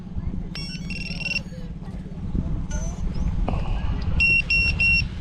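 A GepRC Vapor D5 FPV drone gives several short, bright electronic beeps in groups as its battery is plugged in, over a steady low hum and background talk.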